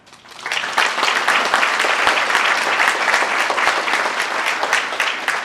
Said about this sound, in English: I'd like to give them all a round of applause again.